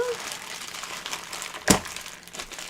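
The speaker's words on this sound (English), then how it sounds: "sorry for the crinkling" A plastic sack of craft supplies crinkles close by in scattered rustling bursts, with one sharper crackle partway through and a voice talking around it.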